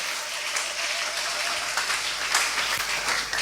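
A church congregation at a Sunday service applauds, steady dense clapping from many people spread across the room, moderately loud and continuous for several seconds.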